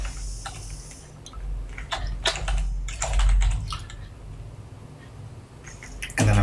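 Code being typed on a computer keyboard in bursts of rapid clacking keystrokes with short pauses, close and clear over a low steady hum.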